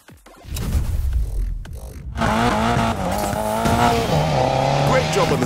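A drifting car in the racing game Need for Speed Payback revs hard and its tires squeal in a long sustained howl, loud and continuous, with brief engine bursts before it.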